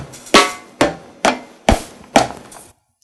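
Roland SPD-S sampling pad triggering industry patch samples with effects off: five dry, percussive knocks and clanks, evenly spaced and close, each decaying quickly, with no voices.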